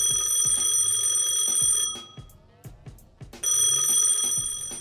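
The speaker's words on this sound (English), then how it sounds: "I heard the ringing from the phone at my desk" A desk telephone in a front-desk setting rings in an audio drama, giving a loud, bright electronic double ring that stops for about a second and a half and then starts again, close and alone.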